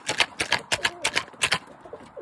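Pigeons, including white and checker birds and young squabs, return to a loft after a flight, giving repeated soft throaty coos and flutters in close, rhythmic bursts.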